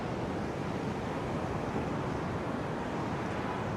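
Ocean surf on Da Nang beach makes a continuous dense wash of broadband noise, loud and steady with wind buffeting, with no voices.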